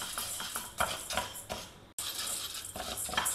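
Urad dal being dry roasted over a low flame in a pan, stirred steadily with a utensil, giving repeated close scraping and clinking strokes with a brief pause midway, no talking.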